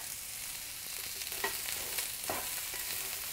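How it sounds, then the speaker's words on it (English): Colorful vegetables for a tofu stir-fry sauté in a hot pan with a continuous loud, hissing sizzle. A few brief stirring scrapes cut through it, with no talking. "So we will saute this until it is tender crisp."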